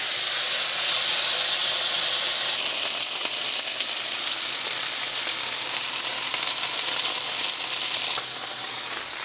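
A ribeye steak sizzling loudly in a hot pan, a steady bright hiss and crackle of frying fat with steam, continuous throughout and close up.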